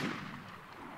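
An FN gun in the video game DeadZ Reborn fires a single sharp shot at the very end, after a fading rumble from earlier fire.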